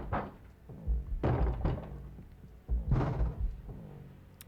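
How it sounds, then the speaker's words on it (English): Heavy thuds of banging on a door in the video game As Dusk Falls, set at a motel, come as several loud, irregular blows spread across the stretch with no talk over them. "With all the banging on the door."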